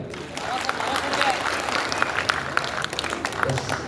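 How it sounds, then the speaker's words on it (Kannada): An indoor audience at a company talk in Tumakuru claps together in a dense, sustained round of applause of moderate loudness, with a voice speaking over it. "ಅವ್ರಿಗೊಂದು ಜೋರ ಚಪ್ಪಾಳೆ ಕೊಡಿ."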